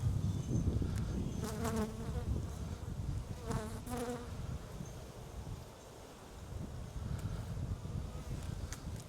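Honeybees buzzing steadily around an open hive frame of worker and drone brood with a developing queen cell, a dense close hum with rising pitched swells throughout and no talking.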